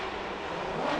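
A drift car at Formula Drift Long Beach, running Achilles radials, holds a steady loud engine roar with a raspy exhaust note on throttle, continuous and close, with no talk.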